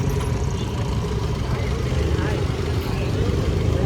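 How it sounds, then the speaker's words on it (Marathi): A car being driven out shows as a continuous low engine rumble, close and steady throughout, with voices talking over it. "आता गाडी काढत आहे बाहेर."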